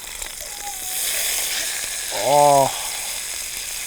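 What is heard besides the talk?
meat sizzling in a pan after being flipped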